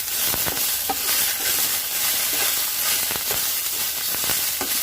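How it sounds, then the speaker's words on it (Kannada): Okra frying in a pan for a spiced gojju, a constant close hiss and crackle of hot oil with occasional stirring scrapes, steady and fairly loud throughout. "ಇದನ್ನು ಒಂದು ಸ್ವಲ್ಪ ಚೆನ್ನಾಗಿ ಫ್ರೈ ಮಾಡ್ಕೊಳ್ತಾ ಇದ್ದೀನಿ"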